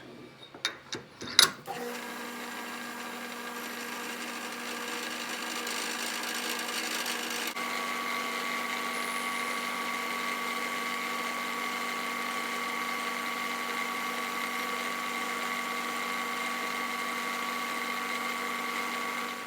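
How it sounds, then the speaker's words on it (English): Milling machine fly cutter taking a light two-thou cut, opening with a few sharp clicks and clunks, then a steady close hum and whir with a faint high whine throughout. "I'm going to use my fly cutter and take about 2 thou off"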